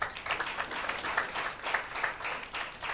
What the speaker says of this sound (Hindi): भाई अर्पित के लिए ताली बजाते हैं भाई